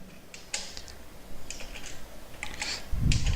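Someone types C++ code on a computer keyboard, producing a handful of quick, close keystroke clicks in small bursts, ending with a heavier thump.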